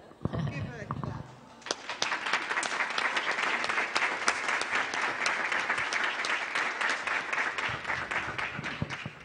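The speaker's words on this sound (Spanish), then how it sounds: "It's her first applause." A conference audience applauds a little girl: a voice speaks briefly, then dense, loud clapping swells and holds steady for several seconds.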